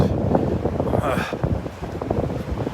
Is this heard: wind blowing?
yes